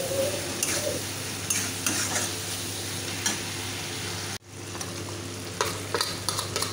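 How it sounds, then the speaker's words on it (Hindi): Chopped tomatoes frying in hot oil for a Bengali tilapia fish curry make a steady close sizzle, with a few scrapes of a stirring spoon against the pan and a short break partway through. "टमाटर डाल सके आप डाल देंगे नमक। टमाटर गलने तक पकाएंगे।"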